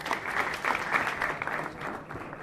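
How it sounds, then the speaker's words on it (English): Audience applause at a tech meetup on smart mobility, a brief burst of many hands clapping together at moderate loudness, fading toward the end. "Big applause."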